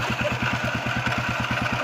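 Motorcycle engine idling close by, a steady rapid thumping putter with mechanical clatter that holds even and loud throughout the short stretch, no voices over it.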